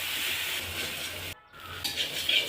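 A spice mixture with chhana being stirred and fried in a pan as stuffing for potol dolma, heard as a close, steady sizzle with scraping strokes and a brief dropout midway. No one speaks.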